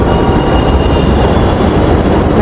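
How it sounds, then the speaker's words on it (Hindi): A metro train rolls into a station with a loud, close, steady rumble and wheel noise filling the space throughout, with no talking. "मेट्रो आ गई है।"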